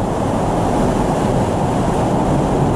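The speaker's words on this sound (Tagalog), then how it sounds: "So maybe mabati niyo ang sound sa hangin o pagkakit sa hangin." Strong wind during tropical storm Opong near a mangrove area at night, a constant heavy low roar and rumble filling the whole stretch with no let-up and no voices.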